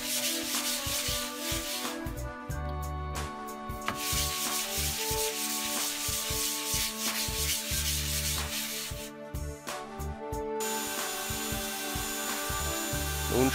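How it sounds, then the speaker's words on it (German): Sanding a plastic mold by hand with 240-grit abrasive cloth, a steady, continuous rubbing scrape with rhythmic back-and-forth strokes, close and fairly loud, alone without talk. "Das Ganze nochmal über 240er Schleifleinen, damit die Oberfläche schon ein bisschen besser wird."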